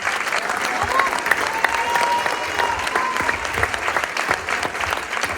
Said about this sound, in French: les derniers applaudissements pour vos enfants